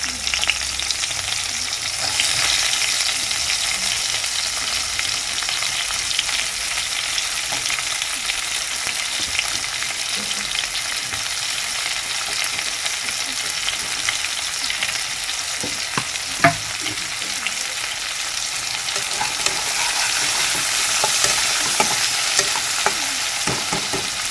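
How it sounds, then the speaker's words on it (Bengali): Onion frying in oil in a wok (kadai), a steady bright sizzle running throughout with occasional scraping clinks of a stirring spatula, close and continuous with no voices. "কড়াইতে তেল দিয়ে পেঁয়াজটা ভাজা হচ্ছে।"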